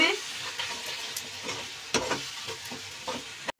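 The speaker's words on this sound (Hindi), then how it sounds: "इस मसाले को अच्छे से भून लूंगी मैं" Spices with red chilli powder frying and being stirred in a pan while making Punjabi sarson ka saag, a steady close sizzle with repeated scraping spoon strokes and clinks throughout.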